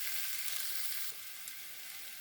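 Food fries in a pan while being stirred, just before poppy seed paste goes in: a steady, bright sizzle close by that drops slightly in level partway through, with faint stirring scrapes and no talking.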